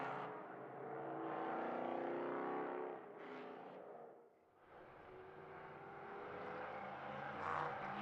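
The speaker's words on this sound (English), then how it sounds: "The LMP3 specifications run these cars on the Nissan VK56 V8 engine." LMP3 prototype race cars with Nissan VK56 V8 engines roar past at a distance at Mugello, rising and falling as they pass, with a brief dip before another car approaches.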